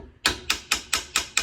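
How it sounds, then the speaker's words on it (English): Mallet blows on a brass bell of a 1903 King cornet fitted over a mandrel during restoration: six sharp, evenly spaced metallic knocks, close and loud, each ringing briefly before the next strike. "knock all the high spots down on the mandrel"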